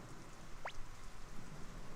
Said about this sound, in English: It won't stop raining. It's a nasty rain.